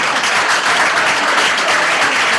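An audience at a symposium claps steadily, a dense, loud burst of applause with no break, filling the whole short stretch.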